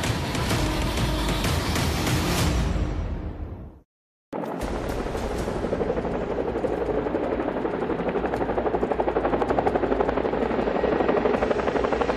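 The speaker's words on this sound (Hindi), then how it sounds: "दो बहुत ही ताकतवर हेलीकॉप्टर अचानक ब्रिटेन के आसमान में नजर आते हैं।" A loud helicopter with a steady, thudding rotor roar that cuts out briefly, then returns close and continuous, without any talking.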